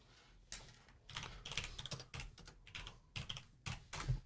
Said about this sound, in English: Sorry, I got a very noisy keyboard.